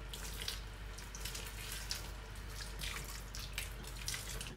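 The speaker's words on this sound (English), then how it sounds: "And add up hot water." Hot water is poured into a pan of tiger prawns cooking in coconut milk, a soft, steady rush of running water that holds faint and even throughout with no one speaking.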